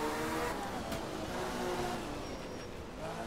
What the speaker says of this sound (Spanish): Ruge más el coche.